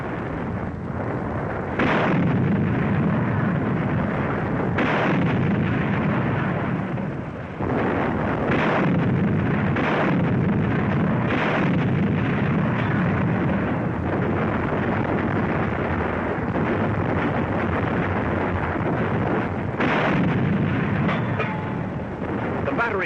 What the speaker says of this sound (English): British 25-pounders open up.